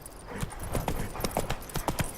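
Hooves of Roach, the horse in The Witcher 3: Wild Hunt, clip-clop in a brisk, even trotting rhythm of distinct beats, close and clear for a couple of seconds.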